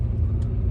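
A car engine runs nearby, a steady loud low rumble filling the short moment with no other sound on top.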